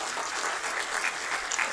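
Brief burst of audience applause at a book release event in Aurangabad, honouring Sheshrao Chauhan; fairly faint, even clapping heard from a distance in a hall.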